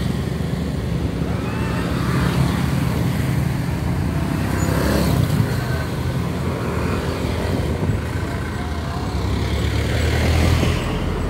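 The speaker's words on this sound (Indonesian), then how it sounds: "suasana terkini arus lalu lintas pada siang hari ini di jalan lintas" Midday traffic streams along the Padang–Bukittinggi highway, with cars, trucks and motorcycles passing in a continuous, moderately loud wash of road noise and occasional nearer vehicle swells.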